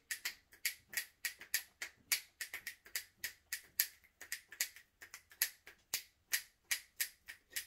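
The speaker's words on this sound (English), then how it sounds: "snap your fingers." A long run of quick, crisp finger snaps, close but fairly quiet, in an uneven rapid rhythm with no talk.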